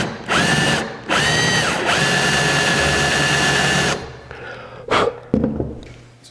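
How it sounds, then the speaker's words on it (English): A half-inch drill bores a hole through a router table insert, its motor whining loudly in steady runs with a brief pause between them, then stopping into a few sharp knocks and handling clatters. "So I've got a 1/2 inch drill chucked up here."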